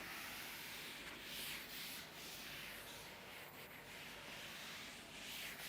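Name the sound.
rubbing out writing on a board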